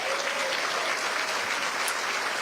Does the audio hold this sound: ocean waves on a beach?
no